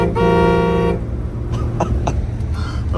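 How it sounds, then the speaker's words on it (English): A truck horn gives a short, loud honk near a road during a convoy drive, followed by scattered clicks and traffic rumble close by, with no talk. "Honk for the kid again?"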